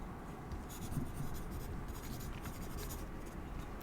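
Pencil scratching steadily across paper, a close, continuous soft scraping with small strokes, no voices present.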